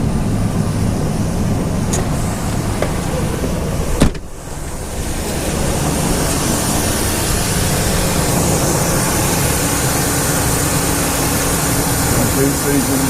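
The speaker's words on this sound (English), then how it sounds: "The compressor is turning on and off about every second." A Ford car's air conditioning runs with the fan on high, a steady loud whoosh over a low engine hum, broken by a sharp clunk partway through.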